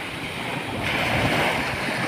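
Surf at white-sand Seger Beach on Lombok washes in steadily, a broad rushing roar that swells slightly partway through, with some wind buffeting the microphone and no voices.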